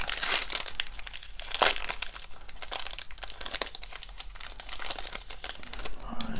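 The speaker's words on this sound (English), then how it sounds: "All right, so four more packs." Foil wrappers of Bowman baseball card packs crinkle and tear continuously up close, a busy rustling texture with sharp crackles throughout.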